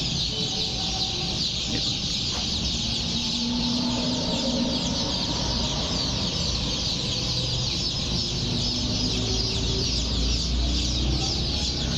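A steady, dense chorus of Tiger breed chicks peeping with hens clucking now and then, continuous throughout and fairly close, with no talking.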